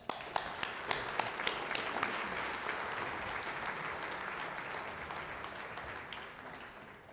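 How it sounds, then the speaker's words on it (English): A round of applause from an evening event's crowd, starting with a few sharp near claps, swelling into dense steady clapping, then tapering off softly. "And one more round of applause."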